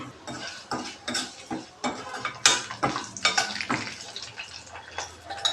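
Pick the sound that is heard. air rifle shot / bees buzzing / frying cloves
frying cloves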